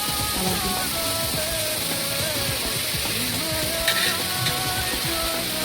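Chicken fries with potatoes in a pan and makes a dense, steady sizzle like heavy rain. The sound stays loud and unbroken, with faint scraping and a couple of brief clicks near the end.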